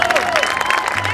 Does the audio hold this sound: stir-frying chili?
no